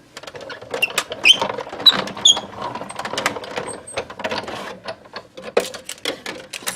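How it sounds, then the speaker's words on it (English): A die cut machine feeds paper through its rollers to cut a Christmas ornament insert, giving a close, uneven run of mechanical clicks, rattles and grinding crunches with no voices. "just run that right back through your die cut machine"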